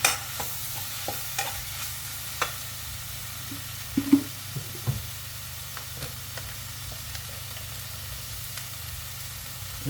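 Chili paste with fish sauce stir-fried in a pan for grilled catfish chili relish, a steady soft sizzle with scattered scraping stirs and occasional clinks of a utensil against the pan.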